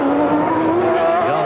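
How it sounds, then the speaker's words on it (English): Formula One cars, including a Ferrari, race past with a loud, continuous high-revving engine whine that holds steady throughout, with no talk over it. "I believe that's John Alesi in the Ferrari."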